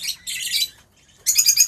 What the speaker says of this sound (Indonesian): Ini parkit jantan nih.